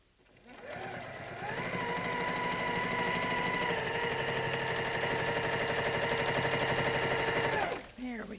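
A sewing machine runs steadily while quilting a quilt, a loud continuous whirring hum that starts up, holds for several seconds, and stops near the end.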